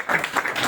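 Audience applause in a crowded hall, with steady, dense clapping throughout the short moment, moderately loud, with a faint voice mixed into the crowd noise.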